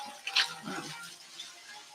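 A kitchen tap runs into a measuring cup to fill two cups of water for a meal kit recipe, a faint, short, close hiss of flowing water.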